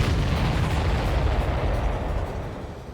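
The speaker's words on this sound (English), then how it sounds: "Did you see that explosion?" A massive explosion in the Ace Combat 7 jet combat video game roars as a dense, sustained rumble that fills the whole clip loudly, with no voices over it.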